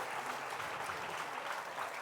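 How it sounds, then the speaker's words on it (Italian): An audience applauds after a concert, a short burst of steady clapping from many hands at moderate level, heard alone. "Ci è scappato qualche applauso nel silenzio che doveva essere immutato"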